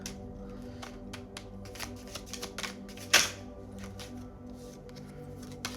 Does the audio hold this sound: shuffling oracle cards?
yes